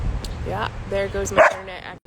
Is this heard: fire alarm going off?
no